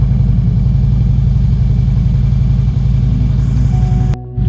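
A motorcycle engine idles steadily and loudly up close before a ride, a dense low throbbing rumble that holds constant, then cuts briefly near the end.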